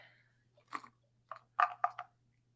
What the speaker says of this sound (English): You just swallowed those 2 treats without even chewing.